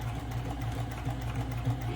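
A sewing machine runs a continuous seam through shoulder bag fabric, a steady close motor hum with a quick regular stitching pulse and no voices.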